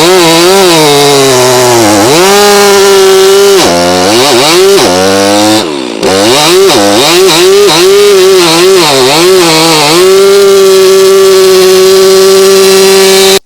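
A loud Stihl MS362C chainsaw roars continuously close by, its engine pitch dipping and rising repeatedly as it bites into wood, with a brief drop midway.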